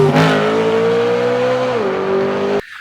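Twin-turbo inline-six of a BMW M4 Competition (F82) revving loudly and steadily with a strong droning tone, pitch dipping briefly before the sound cuts off abruptly near the end.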